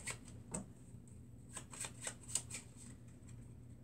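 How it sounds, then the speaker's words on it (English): Playing cards being shuffled by spectators during a close-up magic trick, a series of crisp riffling and snapping bursts, quiet and close, alone without talk. "give them a quick shuffle"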